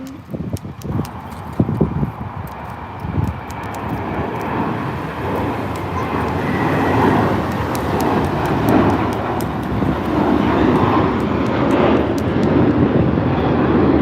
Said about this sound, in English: Well, now there's a JetBlue departing.